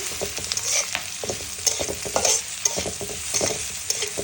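Whole panch phoron and black cumin hit hot oil in a pan, making a loud, close sizzle with rapid crackles and pops alongside stirring scrapes, and no one speaks.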